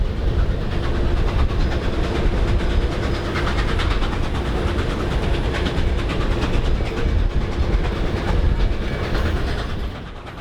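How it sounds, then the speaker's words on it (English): Steam locomotive 765 hauling the Joliet Rocket excursion train into Chicago, a loud, close, continuous rumble with rhythmic clickety-clack of wheels over rail joints, fading slightly at the end. "We switched tracks as we made our way into the city in order to align with the tracks that Metro had set aside for the train"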